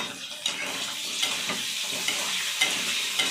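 Potatoes sizzle in a hot pan under a loud, constant frying hiss, broken by scraping stirring strokes roughly every second.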